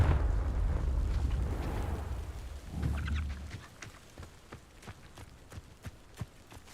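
A Confringo fire spell bursts in the video game Hogwarts Legacy, a loud rumbling blast that fades into scattered crackles and small pops.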